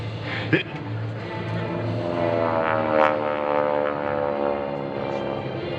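Propeller aircraft of the GEICO Skytypers formation arriving at an airshow, a sustained droning engine roar swelling as the planes approach, with a public-address announcer talking over it.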